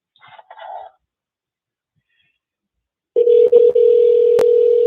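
A single steady telephone dial tone holds clear and loud for nearly two seconds, with a few short dips, after a brief stretch of faint speech-like sound and a pause of silence.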